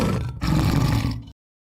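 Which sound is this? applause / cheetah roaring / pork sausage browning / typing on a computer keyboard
cheetah roaring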